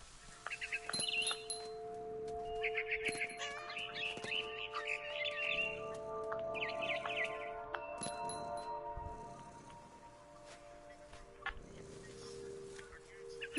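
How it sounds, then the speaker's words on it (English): Bird chirping outside a window, with bright repeated chirps and calls in short irregular bursts over quiet background noise, moderately close. "Then I heard chirping outside my window."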